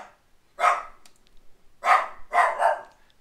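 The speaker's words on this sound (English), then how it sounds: "I just set off the neighborhood's dogs." Neighborhood dogs barking outdoors, a single bark followed by a pause and then two or three more in quick succession, moderately loud and somewhat distant, with quiet gaps between.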